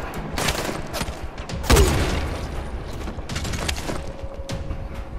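Gunfire in the video game Dying Light: bursts of rapid shots with a heavier boom partway through, loud and close over a busy game background.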